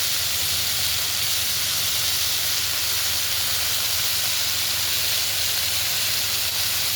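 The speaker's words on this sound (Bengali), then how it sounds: "ভালো করে নেড়ে একটু ভাজতে দেবো।" Tomatoes and turmeric fry in a pan for a Bengali fish curry with okra and potato, a steady bright sizzling hiss running unbroken and fairly loud throughout with no talk.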